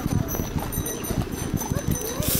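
Horse hooves clip-clop in a steady rhythm on a holiday-lights horse ride at a community centre, close and continuous beneath people talking and singing.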